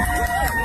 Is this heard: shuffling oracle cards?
no